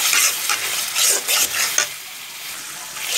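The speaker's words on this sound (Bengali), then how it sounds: "দিয়ে দিব আমরা ধনিয়ার গুঁড়া, হলুদের গুঁড়া, লবণ, ভালো করে কষিয়ে নিব" Onion paste with coriander powder, turmeric and salt sautéing in a pan for a restaurant-style bhaji, a steady close sizzle with several bright bursts of stirring scrapes, alone without voices.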